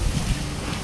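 Steady low wind rumble buffeting the microphone, broadband and continuous with gusty surges, no voices.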